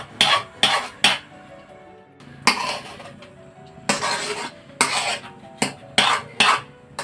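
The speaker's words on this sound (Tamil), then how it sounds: "அப்படியே அடி பிடிக்காமல் அப்படியே சுற்றி கிண்டி விடுங்க." A spoon stirs and scrapes thick rava palkova, made with milk, ghee and sugar, in a pan, giving irregular bursts of scraping and knocking close by, separated by short quiet gaps.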